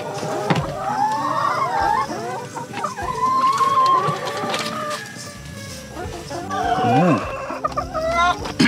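Laying hens cluck and call on a poultry farm, close and fairly loud, with overlapping bursts of fowl chatter throughout.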